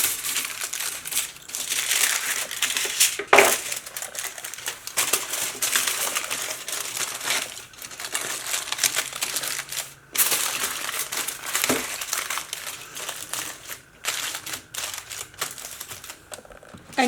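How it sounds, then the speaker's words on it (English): Aluminum foil crinkling and crushing as it is folded over the edges of a cheesecake pan, a steady close-up rustle running throughout with a few sharper crackles and no talking. "place your Reynolds wrap or your aluminum foil"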